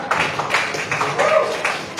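Audience clapping in an Indonesian university exam-session classroom, a loose burst of hands with irregular sharp claps over room noise, close and moderately loud.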